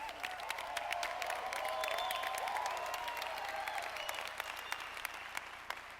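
An audience at a leadership academy event in Miami claps steadily, with a few shouts rising over the crowd for several seconds.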